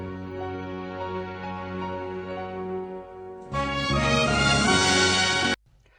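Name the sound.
instrumental music track without vocals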